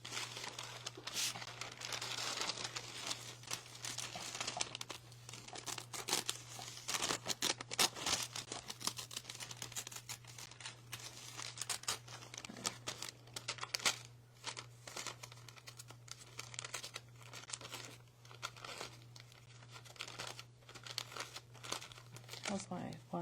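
Decoupage paper is torn by hand for spring and Easter craft decor, giving repeated crinkling, rustling rips in irregular bursts at close range, with a steady low hum beneath.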